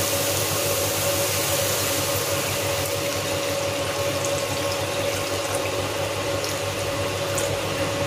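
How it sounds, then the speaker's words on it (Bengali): Water poured into a pan of spiced boal fish curry base, a steady loud rushing pour with a constant hum underneath, alone and close. "এবার একটু দিয়ে দেব জল।"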